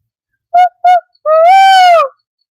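A man imitates an owl call with his voice in the woods of southeast Oklahoma: two short hoots, then one longer, rising and falling hoot, close and clear against silence.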